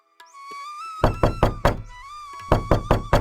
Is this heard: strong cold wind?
no